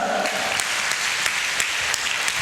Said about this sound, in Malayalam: dear parents, please clap hands for them